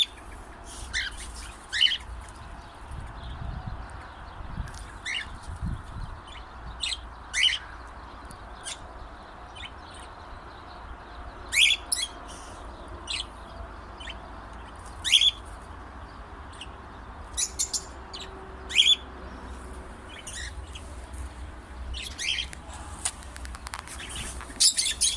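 Parakeets chirp in a large 28 m² aviary, scattered short high tweets and squawks, some near and some farther off, over a steady low background hiss.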